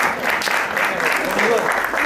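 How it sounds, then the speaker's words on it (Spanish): A crowd claps steadily at a mural inauguration ceremony at Liceo Violeta Parra, a school in Chile, producing a sustained, even wash of applause from many hands throughout. "solicito un aplauso para quien tomó esa decisión"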